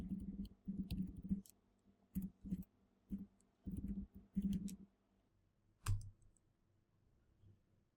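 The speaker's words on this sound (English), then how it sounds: "So I'll just type in the command for starting the Puppet agent service." Keys clatter in short bursts on a computer keyboard as a command is typed, clusters of quick clicks separated by brief pauses, then one sharper final tap like the Enter key, close and fairly quiet.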